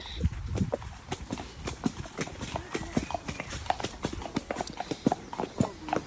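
Horse hooves clip-clop in a steady, brisk rhythm on a hard road in traffic, close by, with faint voices in the background.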